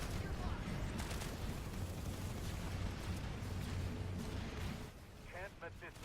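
Grenade blasts and gunfire in an online first-person shooter battle at a facility, a dense, continuous barrage of loud booms and shots that eases near the end, with a voice heard over it.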